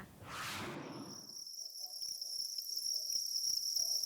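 Crickets chirp in concrete tanks on a cricket farm, kept on black rice-husk bedding with egg trays for shelter. A brief soft rustle comes first, then a steady, high, continuous trill that gets a little louder.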